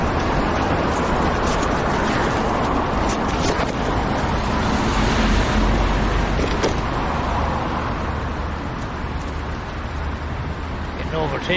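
A car overtakes on a road, a loud steady roar of engine and tyre noise from inside a moving vehicle, with rushing wind throughout and no clear talk.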